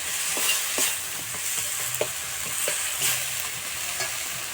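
Spiced paste for a Bengali fish curry with bottle gourd stems, potato and lentil dumplings sizzles steadily in a pan, with regular scraping strokes of a spatula stirring it, close and moderately loud, no voices.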